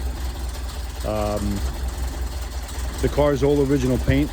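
A classic car's engine idles steadily close by, a low continuous rumble running beneath someone talking throughout.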